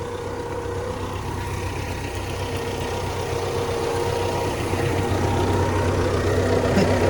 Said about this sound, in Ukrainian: А трактор їде сам. Рівненько по лінії.